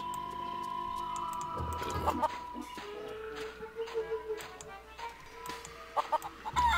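Chicken clucking in The Curse of Monkey Island, a few short clucks over a steady game soundtrack, with sharper bursts toward the end.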